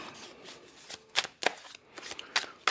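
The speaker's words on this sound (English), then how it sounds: "All right, that's a good enough shuffle." A deck of tarot cards shuffled in several quick bursts, sharp papery riffles close by, with no voices.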